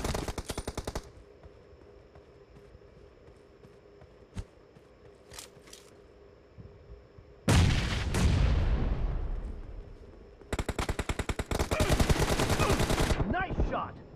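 Gunfire in a PUBG Mobile match comes as loud automatic bursts, one rattling volley early, a heavy blast with long tail midway, then another sustained rapid string near the end.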